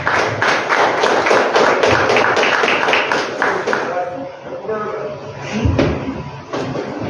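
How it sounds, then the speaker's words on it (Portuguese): A church congregation applauds during a service, with loud, dense clapping that fades into scattered claps and a voice speaking over the crowd. "Uma salva de palmas, Senhor."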